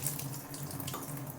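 Water runs steadily from a tap in a small apartment's kitchen, a continuous broadband hiss with a faint low hum beneath, close and unbroken throughout.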